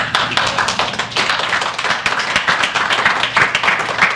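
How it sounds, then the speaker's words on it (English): An audience claps and applauds steadily and loudly throughout, a dense crowd of hands with no speech over it. "Give her a big round of applause."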